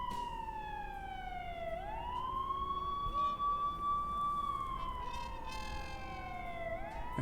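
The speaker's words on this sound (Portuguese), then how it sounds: "Ai, chegou a ambulância." Ambulance siren in the video game Blacksad: Under the Skin, a wailing tone sweeping down and rising again in long cycles, steady and moderately loud over a low background rumble.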